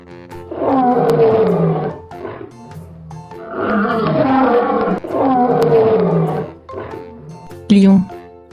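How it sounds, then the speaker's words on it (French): A lion roars in a series of deep, loud, close calls with short gaps between them, followed at the end by a brief sharp click. "lion,"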